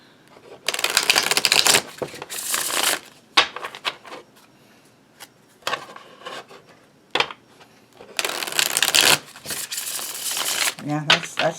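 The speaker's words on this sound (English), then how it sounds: "As a riffle shuffler, I will say that's some smooth shuffling." Cards being riffle shuffled close up, several loud fluttering bursts separated by quieter gaps with softer tapping and sliding, and some speech mixed in.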